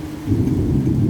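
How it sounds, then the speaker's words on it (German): A strong thunderstorm with rain lets out a deep, rolling thunder rumble that swells after a brief pause, loud and close, over a steady rain hiss. "Und jetzt kommt der Regen, okay."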